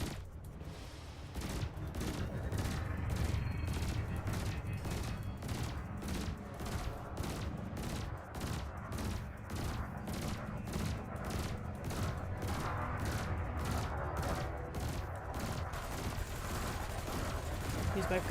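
Spaceship guns firing in rapid bursts during an Elite Dangerous dogfight, a dense stream of repeated blasts layered over a low engine rumble, with a voice talking over the gunfire.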